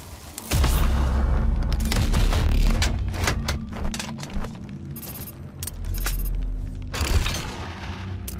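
Rapid sustained minigun fire in DOOM roars in long continuous bursts with heavy low rumble and crackling, pausing briefly before firing again.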